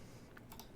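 A few quick, faint computer mouse clicks sound close by, landing in a short cluster over a quiet background, with no talking.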